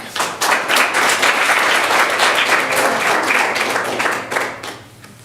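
Audience applause at a school board work session, a dense, loud burst of many hands clapping that fades out toward the end.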